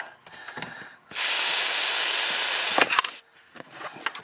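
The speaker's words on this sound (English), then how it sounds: "we're going to go ahead and spray a nice mist" A steady hiss of aerosol spray mist on a vehicle during routine maintenance runs for about two seconds, bracketed by short clicks and handling noises before and after.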